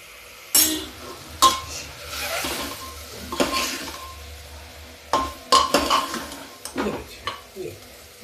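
Masala roasting in a pan while being stirred, heard as irregular scraping strokes and clinks of a utensil against the pan over a soft, low sizzle, close by, with no speech.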